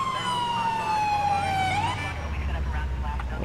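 An ambulance siren in GTA IV gives one long, loud descending wail that ends in a short upward chirp, then cuts out, leaving traffic rumble.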